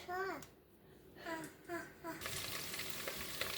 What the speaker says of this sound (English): So we got the Conecuh sausage in the skillet. And we're going to get them browned up.